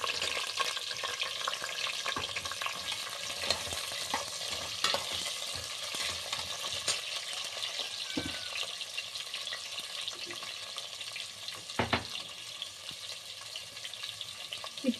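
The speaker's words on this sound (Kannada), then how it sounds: "ಈಗ ಈರುಳ್ಳಿ ಹಾಕ್ತಾ ಇದ್ದೀನಿ." Onions for chicken biryani fry in a pan with a steady, dense sizzle and scattered pops, stirred now and then with brief scraping clicks, close and continuous with no talking.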